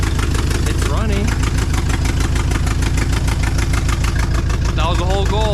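A 1962 Chevrolet Impala four-door hardtop engine runs steadily with barely bolted, loose exhaust manifolds, giving a loud, rough, tractor-like idle with a fast even pulse throughout, while a voice talks over it.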